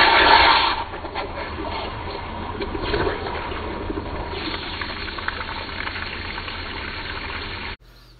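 A sink fills as water pours and gushes from the tap, loudest at the start and then settling into a steady rushing flow before cutting off abruptly near the end.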